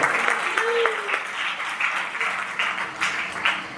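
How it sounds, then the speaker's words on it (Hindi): A church congregation claps in a sustained round of applause with uneven rhythmic bursts during a Sunday service, while a voice speaks briefly at the start. "प्रभु की महिमा के लिए ताली बजा सकते हैं।"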